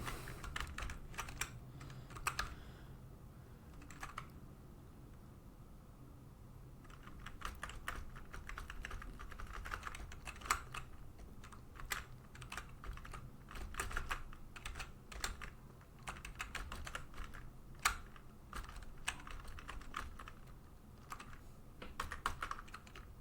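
Keys clatter on a computer keyboard while playing a game, with irregular bursts of quick taps and pauses between them, close by and fairly quiet, with no one speaking.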